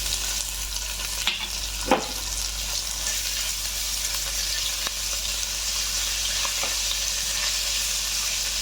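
Chilli, bay leaf, whole cumin, chopped garlic and ginger frying in hot oil, a steady broad sizzle with a few brief spatula taps, close and continuous with no talk.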